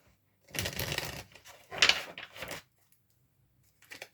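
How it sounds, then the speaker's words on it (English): Tarot cards being shuffled by hand during a pick-a-card reading, heard as a few separate bursts of riffling and sliding card noise with short pauses between them, close and fairly quiet. "We'll clear the cards now. Have a good old shuffle."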